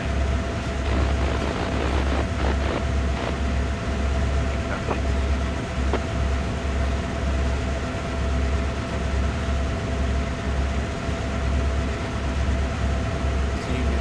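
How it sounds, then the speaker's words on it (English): A passenger train rolls through the Oakville Subdivision near Hamilton in Train Sim World 6, a steady loud rumble with rhythmic low thumping of wheels over rail joints and a faint sustained tone, continuous and close throughout. "It's probably a passenger train."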